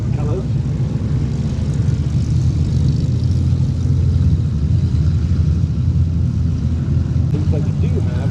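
Spitfire Mark 40 fighter aircraft flying past at the Duxford Battle of Britain air show, a deep continuous engine roar and rumble held loud throughout, with crowd and announcer talk mixed in.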